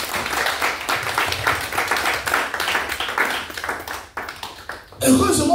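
A church congregation clapping and applauding in praise, steady dense handclaps that continue for several seconds and then fade, with a voice speaking over them at the end.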